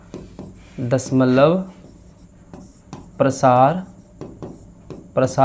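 Chalk scratches in short strokes as a decimal expansion is written on a board during a real-numbers maths lesson, with a voice speaking in between the strokes.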